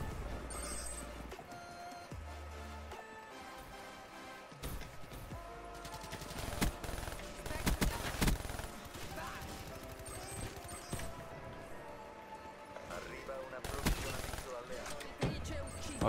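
Sporadic gunfire bursts and crashes from the video game Call of Duty Black Ops 3 crackle through a busy mix of game effects, with a voice talking across parts of it.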